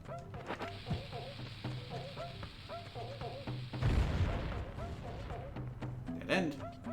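A bomb blows up a rock in The Legend of Zelda: Ocarina of Time, a single heavy game explosion under steady background music with repeating melodic notes.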